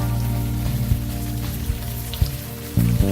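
Steady rain falls in the video game Unavowed, a continuous dense patter on surfaces with a few louder drips, close and even, with a low hum beneath.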